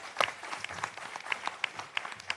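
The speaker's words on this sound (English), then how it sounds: "let's give them a warm welcome applause" A small audience at a Democratic senatorial candidate forum in St. Thomas–St. John gives scattered, light applause, with a handful of distinct claps spaced unevenly at a fairly low level.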